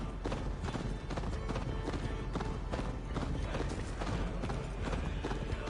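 Horse galloping in the video game Assassin's Creed Valhalla, a steady drumming of hoofbeats running continuously under game music and other sounds, fairly loud throughout.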